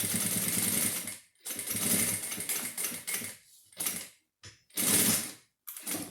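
Sewing machine stitching down a zipper while making a spiral pencil case, several bursts of steady mechanical whirring separated by short pauses.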